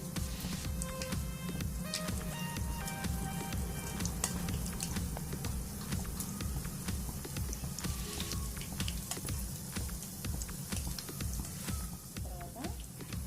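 Onion pakodi fritters deep-frying in hot oil over a medium flame, a steady crackling sizzle with fine spattering pops throughout, while someone talks over it.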